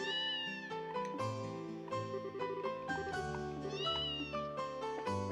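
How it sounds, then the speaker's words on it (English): A cat in the video game Trails in the Sky meows several times over gentle background game music, the calls fairly clear and spaced out across the passage. "Pet the kitty."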